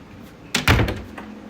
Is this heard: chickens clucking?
no